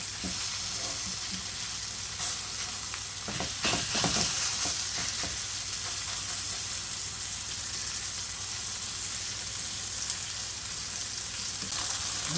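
Swiss steaks fry in a pan, giving a constant close hissing sizzle with occasional sharper pops and spatters, continuous and without talk.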